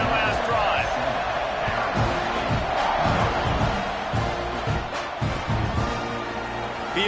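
A packed football stadium crowd at an Arizona State versus Texas A&M game roars after a score, a dense, loud, continuous wash of cheering with scattered shouts and thumps throughout.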